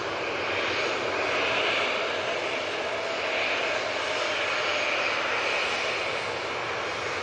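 A Ryanair airliner lands at Manchester Airport, its engines giving a steady, moderately loud whine and rush that swells slightly and holds without any talk over it.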